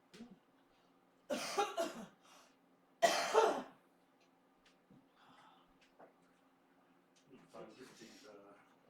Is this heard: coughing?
yes